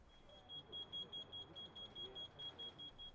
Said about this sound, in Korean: 문을 닫자 잠시 후 일산화탄소 경보음이 울립니다